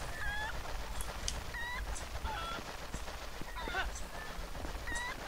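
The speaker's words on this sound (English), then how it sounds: "Alright, you stupid golden chicken, get out of here." A golden cucco from The Legend of Zelda: Twilight Princess honks repeatedly in short nasal bursts, one every second or so, over a steady background ambience.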